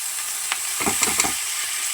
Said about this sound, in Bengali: এখানে আলু দিয়ে ডিম রান্না করতেছি